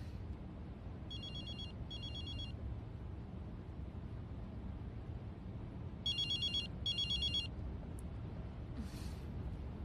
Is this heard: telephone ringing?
yes